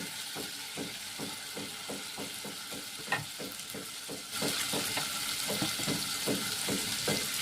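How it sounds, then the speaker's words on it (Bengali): Hilsa fish frying lightly in a pan with a spice paste, a continuous close sizzle with regular soft pops and bubbling that grows somewhat louder midway, no voices. "এই মাছটা আমি একদম হালকা ভাজবো।"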